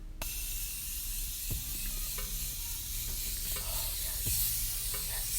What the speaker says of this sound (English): I'm gonna use the Morphe Continuous Setting Mist.